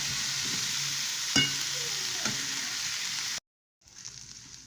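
Tomatoes for garlic kuzhambu sauté in a pan on low heat with a steady close sizzle and a couple of stirring scrapes. The sound cuts out abruptly, then a softer sizzle returns.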